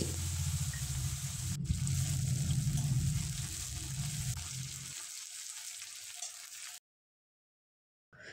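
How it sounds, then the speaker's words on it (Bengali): Bay leaf, dried chillies, whole spices, cumin and chopped onion tempering in hot oil, a strong sizzle that fades after a few seconds before going silent. "ওই তেলে ফোড়নে দিয়ে দেবো তেজপাতা, শুকনো লঙ্কা, গোটা গরম মশলা, গোটা জিরে, 2টো পেঁয়াজ কুচনো নিয়েছি"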